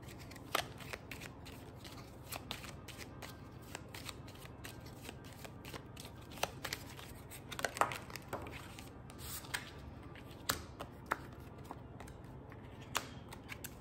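Tarot cards are shuffled by hand during a reading, quiet repeated riffles and soft slaps with scattered sharper snaps, close and alone with no talking.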